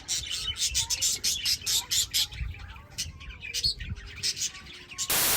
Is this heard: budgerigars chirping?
yes